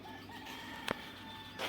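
Chickens in a South African village cluck briefly and faintly against quiet outdoor ambience, with a couple of short sharp calls standing out.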